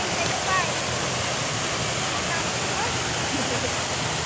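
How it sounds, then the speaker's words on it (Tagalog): A park fountain in Hong Kong gives off a steady, broadband rush of splashing water, constant and fairly close, with faint voices murmuring underneath. "Ganda ng fountain."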